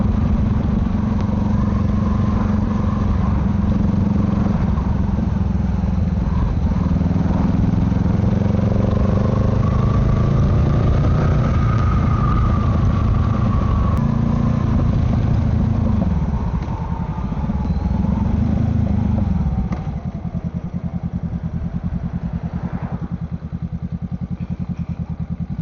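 A Honda Rebel 500 motorcycle rides along at around 35 miles an hour, its mid-pitched engine droning steadily with rising and falling pitch as it passes, fairly close, then fading slightly toward the end.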